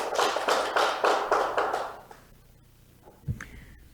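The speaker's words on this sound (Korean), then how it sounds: "본부장님을 박수로 환영해 주시기 바랍니다" An audience at a Korean science and technology innovation forum claps to welcome a presenter. Brisk rhythmic clapping fills the first two seconds, then stops abruptly, leaving quiet room tone and a single faint knock.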